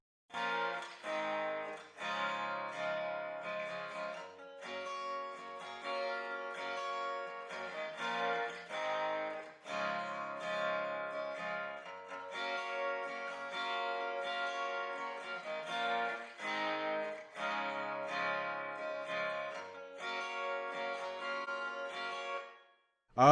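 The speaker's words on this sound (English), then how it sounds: "I'm going to play just the reverb so you can see what that sounds like." An isolated reverb return from a mix of a song, a quiet, airy wash of echoing sung phrases and instrument tails pulsing in rhythmic bursts with short gaps, steady and faint throughout.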